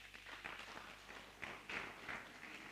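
Faint, scattered applause from a small audience at a forum in Ibadan, uneven and fairly quiet, fading in and out over a few seconds.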